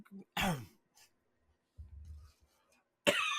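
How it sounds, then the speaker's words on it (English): A man coughs close to the mic during a podcast recording, giving a couple of sharp, raspy coughs, a low throaty grumble and a final harsh cough in otherwise quiet surroundings. "coughing"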